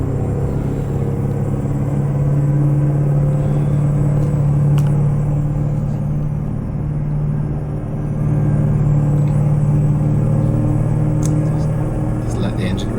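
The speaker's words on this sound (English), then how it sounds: "Just let the engine rev out into 4th, shift to 5th, like so." A V8 Mack R truck engine in American Truck Simulator, driven on a snowy mountain pass, gives a loud, steady, deep droning rumble that holds throughout with slight swells as it revs, and a voice talks over it.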